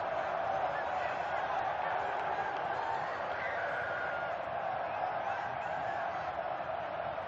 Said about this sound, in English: Celebration of the home crowd that means now two goals.